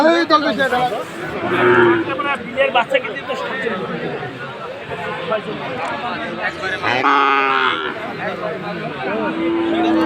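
At the Aftabganj cattle market, Sahiwal bull calves and cows low and moo among a busy crowd. Loud chatter and a speaking voice run throughout.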